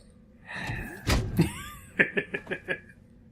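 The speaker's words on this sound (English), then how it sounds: "That's a classic sci-fi door. That's the same sound effect that's in XCOM." Sci-fi sliding door opening in the Metal Gear Solid 2 video game: a short mechanical swish and thunk, then a quick run of rhythmic hissing pulses, at moderate loudness with no talk over it.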